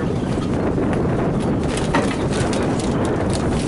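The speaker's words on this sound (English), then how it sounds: "The wind's terrible." Strong outdoor wind buffeting the microphone while a cedar bluebird house is being built, a steady loud roar that never lets up.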